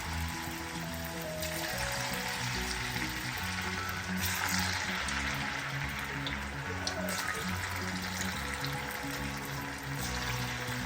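Potato french fries sizzling and crackling steadily in hot oil, a dense continuous frying hiss heard close up and alone for the full stretch.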